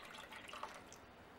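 Whole milk poured into a pot of cooked rice for Guyanese sweet rice, a soft steady liquid pour with faint splashing, quiet and close, with no voices.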